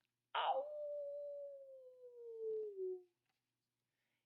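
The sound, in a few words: imitated coyote howl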